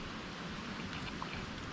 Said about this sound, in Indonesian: Hari sudah hujan masih.